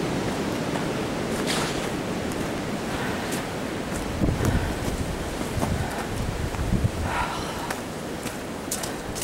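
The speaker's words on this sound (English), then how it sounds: "we're getting 50-mile-an-hour gusts of wind" Strong winter storm wind gusts of around 50 mph roar and buffet the microphone continuously, a dense rushing noise with heavier surges partway through.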